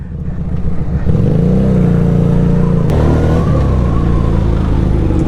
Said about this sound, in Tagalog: Ang brusko ng tunog nito. Para sa 250cc na V-engine, panalong panalo na ito.